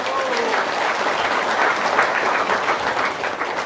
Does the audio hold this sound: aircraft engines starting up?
no